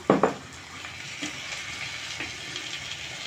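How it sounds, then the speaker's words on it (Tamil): A tomato dropped into a hot oiled pan while cooking a fish curry: a sharp, loud burst of sizzling at the start that quickly settles into a softer, steady frying hiss with a few faint stirring clicks. "இப்போ நெக்ஸ்ட் வந்து தக்காளி போட்டுடலாம் ஒரே ஒரு தக்காளி தான்"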